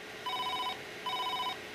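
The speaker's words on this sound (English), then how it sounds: "your phone will still ring" A Norstar office phone left off the hook rings softly in two short electronic warbling bursts with a gap between them, clear against a quiet background with no talking.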